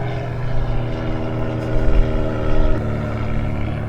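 Loud, steady droning rumble of an airplane passing overhead, swelling slightly midway and holding at a constant roar.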